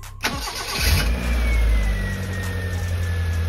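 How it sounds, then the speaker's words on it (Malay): A Proton Wira sedan engine, just fitted with a new air-conditioning tensioner pulley, cranks briefly up close, catches with a surge, and settles into a steady, even idle. "So jom kita try start engine geng."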